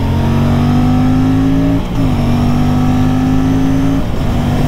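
An Aprilia RS457 sport motorcycle engine revs loudly and close, the pitch climbing quickly, dipping briefly and then climbing again in a second strong rev.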